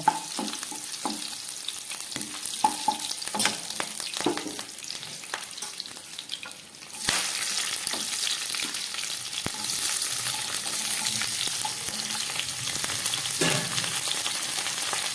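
Cardamom and cloves frying in a hot pan give a soft crackle with scattered pops, then a loud, steady sizzle takes over halfway through and keeps going to the end, with no talking.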